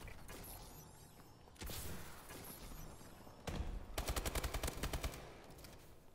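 Video-game weapon fire in Call of Duty: Advanced Warfare from an ASM1, with brief bursts early and a loud rapid string of shots late in the clip, heard alone with no talk.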